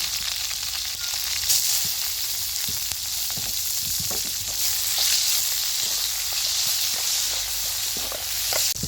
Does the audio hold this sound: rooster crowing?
no